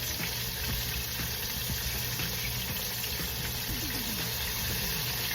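Slices of flour-coated deer backstrap frying in hot oil, a steady dense sizzle and crackle, close and fairly constant, with no talking over it.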